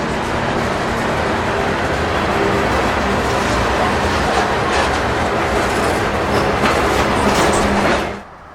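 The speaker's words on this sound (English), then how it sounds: "The big steel wheels rolling across those lateral scratches on the rail make that moaning sound." Heavy freight train's big steel wheels rolling over laterally scratched rail, a loud continuous grinding rumble and moan with faint clicking, close by and steady for eight seconds before cutting off abruptly.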